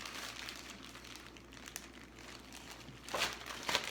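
Thin plastic marinade bag being folded and pressed to squeeze the air out, giving soft continuous crinkling near at hand, with two sharper crackly bursts toward the end.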